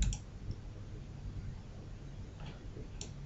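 A few faint, sharp clicks of a computer mouse selecting a file, spaced apart over quiet room tone with no talking.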